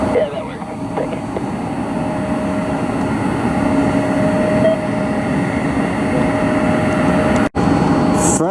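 A Frontier Airbus A320neo at Cleveland airport gives off a loud, continuous broadband engine roar with a steady tonal hum, heard from nearby.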